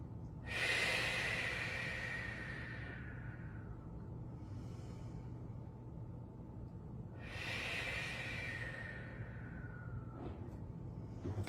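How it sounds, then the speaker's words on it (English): Slow, deep breaths during a Pilates shell stretch, two long audible exhales with a quieter inhale between, close and calm over a low steady background hum. "Take a few inhale, exhales here."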